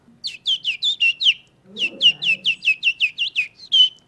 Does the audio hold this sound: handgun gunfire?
no